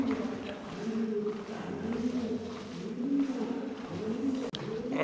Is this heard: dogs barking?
no